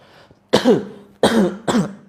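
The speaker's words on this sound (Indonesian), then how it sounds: "Dorong ke depan sambil dibatuk-batukan, sambil ucapkan bismillah Allahu Akbar." Three loud, harsh coughs burst out close by after a brief pause, each forceful and ringing, made as part of a ruqyah healing demonstration, with no talking between them.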